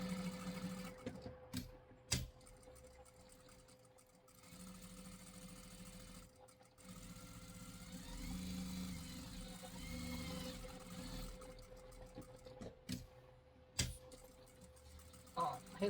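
A sewing machine stitches fabric for a small sheep plush toy, ending with a backstitch. Runs of close, rapid mechanical whirring alternate with brief pauses and clicks, all at low volume.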